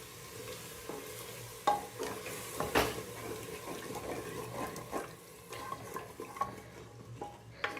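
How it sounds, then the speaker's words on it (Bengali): A spoon scrapes and stirs spice masala in a cooking pan, with irregular knocks and a soft sizzle underneath, and nobody speaks. "নেড়ে নিই, মশলাটা লেগে যাবে না হলে।"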